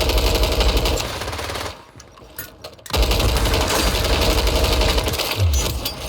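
Automatic gunfire from shooting an enemy in the battle-royale game Call of Duty: Warzone, loud dense rattling bursts that fill most of the moment, with a short quieter gap in between.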